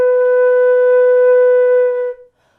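A single flute note, B natural, rings out pure and steady for about two seconds, then stops cleanly with a short decay; nobody speaks over it.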